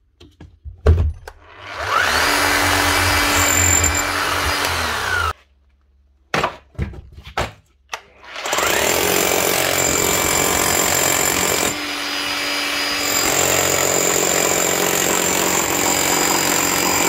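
A Bosch GBH 8-45 D rotary hammer, freshly serviced with a new motor and eccentric gear, runs close and loud, hammering in long sustained bursts separated by a short stop and a few quick blips.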